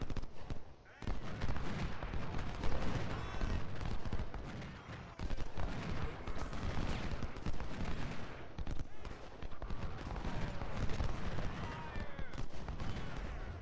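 Continuous dense battlefield gunfire and artillery booms from the Civil War strategy game Ultimate General: Civil War, at the battle of Port Republic, roll on loudly and steadily throughout with no pauses.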